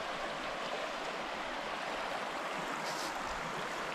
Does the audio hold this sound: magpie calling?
no